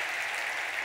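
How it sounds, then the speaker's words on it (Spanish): A cabaret show audience gives a brief, dense burst of applause, steady throughout. "Un aplauso para Nileia Milton, por favor."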